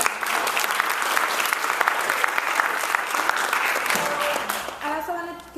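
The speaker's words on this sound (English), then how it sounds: "I also want to give a quick round of applause to Richard and Joanna" Audience applause at a Latinos in Education and Dia de los Muertos community celebration, a steady, dense clapping that fills the room and thins toward the end as a few individual claps and voices emerge.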